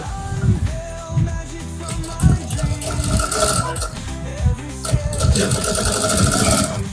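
A sewing machine stitches trouser fabric in a rapid mechanical chatter, loud and close, with brief pauses and restarts as the seam is guided through.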